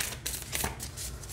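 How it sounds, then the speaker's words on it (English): An oracle card deck, the Crazy Sexy Love Notes set, being shuffled by hand with cards that don't stick: a close, continuous papery riffling with several brighter flurries and no talking. "No complaints in the shuffling department at all."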